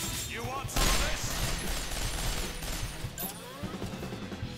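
Dense video game gunfire from Resonance of Fate, a fast fusillade of bullet shots with crashes, loud and continuous, with game voices partly under the shooting.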